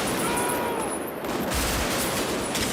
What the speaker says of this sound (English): the full load made moving through those automatic weapons, and the way the sound ricocheted off the walls of the buildings of an empty downtown